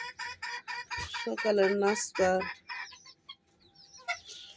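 Hens clucking in quick repeated bursts at morning feeding, with a rooster's crow rising among them, close and loud, while someone speaks briefly.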